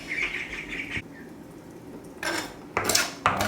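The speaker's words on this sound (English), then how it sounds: "Same here, we're gonna cut the onions in dices." Onions being diced with a knife on a cutting board in a home kitchen, heard as a few separate bursts of chopping and knife-on-board clatter with quiet pauses between them.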